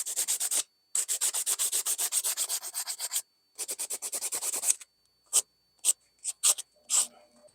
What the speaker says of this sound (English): I'll hand sand those grooves out with progressively finer sandpaper until I'm happy.